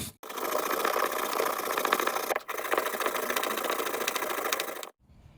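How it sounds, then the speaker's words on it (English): A wire brush scrubs the brake caliper bracket slots on a Jeep Wrangler JK, giving a continuous, close, rasping scrape with a brief pause midway before stopping abruptly. "Now we want to take a wire brush and we want to clean the area where those clips were."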